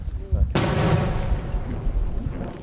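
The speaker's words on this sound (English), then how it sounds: "There are explosions and strikes coming from the enemy's side." A sudden loud blast from enemy shelling in a tense Ukrainian frontline city, a sharp close explosion followed by a long rumbling decay, with a faint voice just before it.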